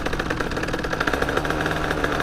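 MRT 2Win motorcycle engine with a fault that makes it rev up by itself and run hot, a steady close rumbling drone with rapid pulsing, no voices.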